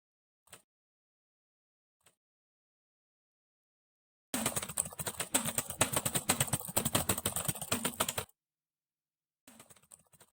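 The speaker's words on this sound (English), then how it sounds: "I think at a point you lost consciousness and headbutted your keyboard typing that in" A fast, continuous burst of computer keyboard typing entering a long string lasts about four seconds, clattering closely, with a few isolated key taps before and after in near silence.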